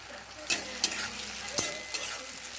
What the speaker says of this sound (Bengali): টমেটো কুচি দিয়ে একটুখানি হালকা করে ভাজবো।